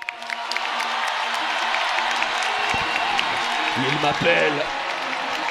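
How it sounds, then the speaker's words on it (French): A studio audience applauds and cheers for Kameto and Xavier, a dense continuous roar of clapping with a brief voice speaking through it near the end. "Je veux un tonnerre d'applaudissements pour Kameto et Xavier."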